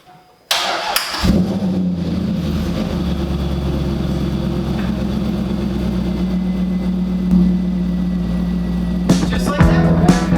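A Lexus ES 350 engine cranks and catches on a jump pack, then settles into a steady, loud idle with a strong low drone. A few clicks and a brief rev come near the end.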